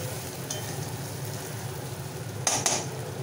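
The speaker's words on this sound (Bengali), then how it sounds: "কিছুটা টমেটো কুচি আর ধনেপাতা এর মধ্যে মিশিয়ে দিতে হবে" A utensil stirs chopped tomato and coriander through a lotte fish curry in a pan, a soft continuous scraping and faint sizzle, ending in two sharp clinks against the pan.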